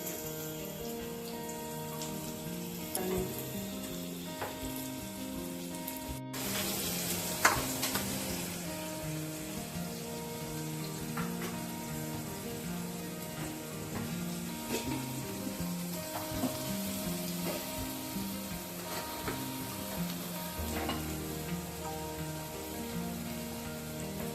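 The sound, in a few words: onions frying and sizzling in a pan with salt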